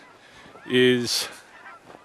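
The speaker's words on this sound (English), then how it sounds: "you can hear the geese are starting to come back" Geese honk at sundown in open countryside, one clear loud honk followed by a fainter second call, with a brief spoken word nearby.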